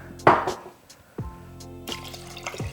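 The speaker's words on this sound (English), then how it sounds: "So I'm gonna add about another cup and a half of water" About a cup and a half of water splashes into a pot of chili in a home kitchen, coming as a few short, close pours and splashes with brief pauses between them.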